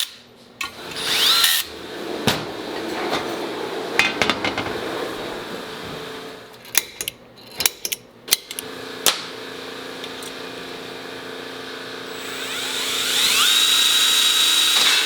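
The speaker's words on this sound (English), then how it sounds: "These 3 holes right here will drill and tap" A power drill bores holes in a 68RFE transmission valve body in a workshop, with short bursts of whining drilling separated by clicks and handling noises, then a sustained high-pitched drill run near the end.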